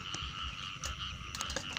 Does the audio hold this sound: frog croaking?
yes